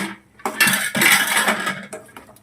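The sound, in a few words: lid placed on cooking pan of paneer tomato curry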